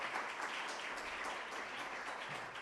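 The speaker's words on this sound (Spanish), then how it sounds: "Fuerte el aplauso." A seminar audience at a youth mental health panel breaks into applause, a dense, even wash of many hands clapping, fairly faint and steady throughout the short burst.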